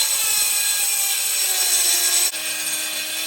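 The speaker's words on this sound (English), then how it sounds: "Going through the frame real quick, making sure we got all the rusty spots completely sanded down" A power sander grinds rusty spots off a metal minibike frame, a steady close whining hum that shifts to a lower pitch partway through.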